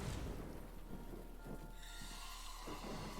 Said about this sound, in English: I'll wait until it's got rain and thunder.